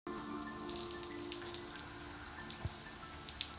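Rain patters faintly and steadily in the horror game Horrorfield, a soft hiss of drops with a steady hum underneath and a couple of sharper isolated taps near the end.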